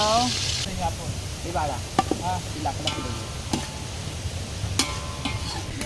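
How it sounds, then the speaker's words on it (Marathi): A knife chops onions outdoors in a forest while a chicken meal is prepared, giving a run of sharp, irregular taps over background chatter and rustling. "इथे आता सागर कांदे वगैरे कापायला घेतला आहे"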